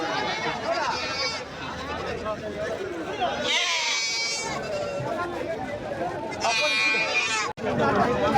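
Goats and sheep bleating at a crowded Ranipet livestock market, several loud bleats rising over a constant hum of people talking nearby.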